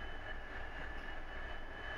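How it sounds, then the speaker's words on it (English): Muffled continuous roar of a fighter jet heard from inside the cockpit during a flypast for an Indonesian Independence Day ceremony, steady and faint with no talk. "these are shot straight from the cockpit of the fighter jet"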